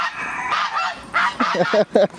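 Geese honk loudly and repeatedly at close range in a poultry yard, a rapid series of harsh nasal calls.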